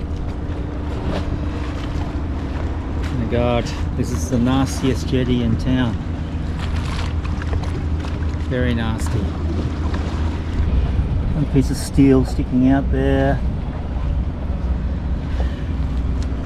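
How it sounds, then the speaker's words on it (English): Steady wind rushes and buffets near the water beside a boat moored at a jetty, with rain approaching, while someone talks over it at close range. "And now the rain is coming. The wind's picked up."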